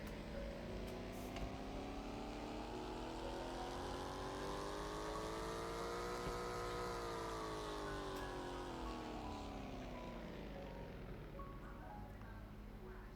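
A car engine on a dyno in the Roblox video game sweeps smoothly up in pitch and back down again in one long steady rev, fairly quiet and continuous.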